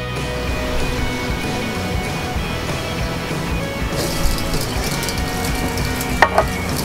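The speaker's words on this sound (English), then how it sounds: "that's the noise that I want to hear when it goes on, a lovely sizzling" Continuous sizzling of pancetta-wrapped hake on a hot grill, steady crackling hiss close up, with a couple of clinks near the end.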